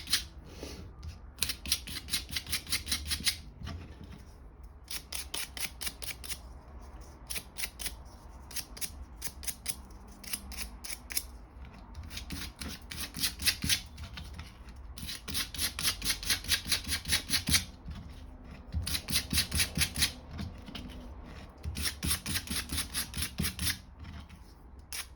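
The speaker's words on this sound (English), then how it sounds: "Just a light brush over with the sandpaper, not too heavy, just to take the shine off." Light hand sanding of a PVC inflatable seam with sandpaper, heard as quick rhythmic scratchy strokes in short bursts, close and fairly quiet, with brief pauses between runs and no talking.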